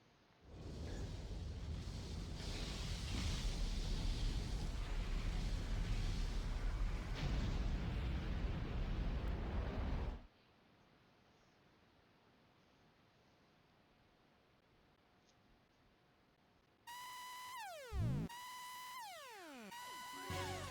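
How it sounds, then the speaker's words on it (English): A large in-game explosion from the Xenogears video game roars loudly for about ten seconds, then cuts to a quiet hum before sweeping synthesized effects rise near the end. "The explosion was too big."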